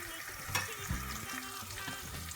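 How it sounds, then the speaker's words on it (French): Onions and bell pepper sweating in a pan for thiebou dieune, a soft continuous sizzle and crackle with a couple of stirring scrapes, quiet and close. "mon mélange d'oignons, de poivron commence à bien suer"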